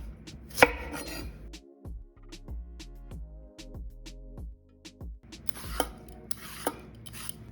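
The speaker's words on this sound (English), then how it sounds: "I'm just going to peel this and then cut it into slices as well" A sweet potato being peeled and sliced on a board: a string of crisp knife strokes and thuds in an uneven rhythm, close and fairly quiet, with scraping and louder handling at the start and end.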